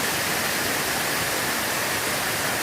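Hidden Falls, a natural waterfall behind a reservoir in rainy Oregon, gives an even, unbroken roar of rushing water, broad and steady throughout with no voices.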